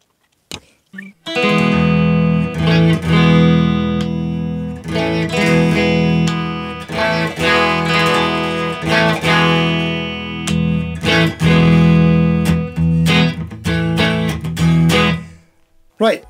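Fazley Firebird budget electric guitar with bright, jangly pickups, strummed loudly and continuously as full chords with a piercing, slightly driven tone for about fifteen seconds, then cut off abruptly.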